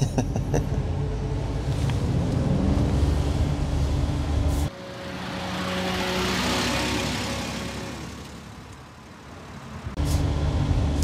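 A 2022 Daihatsu Hijet truck being driven, with a steady low engine and road drone that softens into a quieter, airy rumble midway before the fuller engine note returns.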